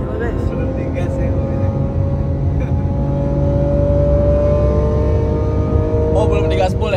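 A car engine droning steadily from close by, its pitch climbing gradually as it accelerates, with a dense low rumble throughout.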